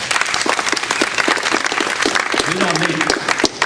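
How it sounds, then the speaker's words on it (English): A crowd applauds steadily throughout a board meeting, dense clapping filling the room, with a brief voice or tone rising near the end. "we don't need applause"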